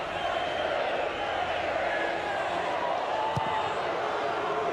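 A stadium crowd at an A-League soccer match between Wellington Phoenix and Brisbane Roar jeers the goalkeeper over a slow goal kick, a continuous roar of voices with a commentator talking over it and a single sharp thud partway through.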